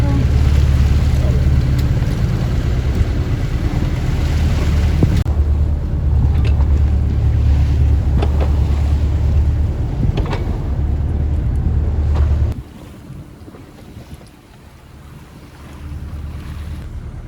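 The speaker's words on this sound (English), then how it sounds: "So we can literally say we have sailed underneath Golden Gate Bridge." A sailboat under sail beneath the Golden Gate Bridge in swelly water, with steady loud wind rushing over the microphone and waves washing around the hull, easing off near the end.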